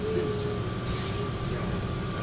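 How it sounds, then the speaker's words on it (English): Airport air train in Atlanta running steadily, a continuous rumbling rail drone with a faint whine, heard from inside the car at moderate level, no talking. "I'm on the air train."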